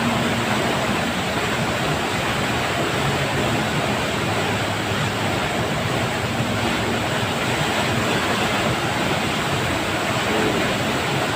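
A strong flood current rushing through a swollen river, a dense, steady roar of water filling the scene without pause.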